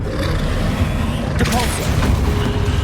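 In Hogwarts Legacy, a Confringo fire spell bursts into a booming, fiery explosion midway through, set within a loud continuous rumble of combat effects and voices.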